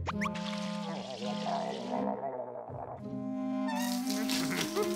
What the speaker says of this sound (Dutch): Tijd om even te douchen.